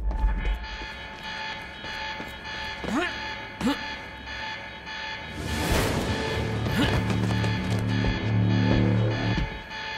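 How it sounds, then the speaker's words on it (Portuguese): An alarm rings through a scene in the video game Quantum Break, a steady electronic tone holding under crashes and shifting game noise, fairly close and continuous. "Esse alarme não vai facilitar minha vida nem um pouco."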